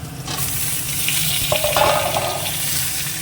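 Potato and plantain pieces fry in a pan with a steady close sizzle and some stirring clatter, with no voices.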